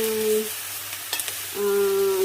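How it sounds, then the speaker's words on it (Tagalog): Dried taro with smoked meat (etag) is sautéed and stirred in a pan, giving a close sizzle with a few light scraping clicks, under a steady tonal hum that drops out briefly midway. "Ito ang gagawin ko is igigisa ko lang siya."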